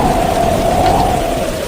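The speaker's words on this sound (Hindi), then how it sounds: "अचानक बारिश शुरू हो जाती है" Heavy rain in an evening storm with strong winds, drumming loudly and close in a constant wash, with a low rumble of thunder underneath. A faint steady tonal hum runs through the short burst, and nobody speaks.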